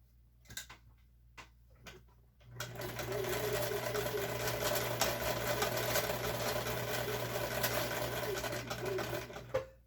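A home sewing machine with a tension problem stitches a quilt, starting after a few sharp ticks and then whirring steadily and loudly with a fast mechanical hum that runs to the end.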